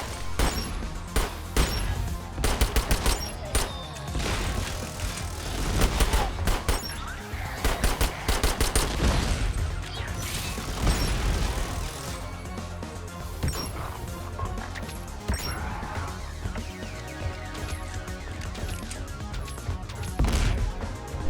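Dense, sustained gunfire and crashing impacts from the video game Sentry, loud and continuous with rapid bursts throughout, layered over busy game sounds.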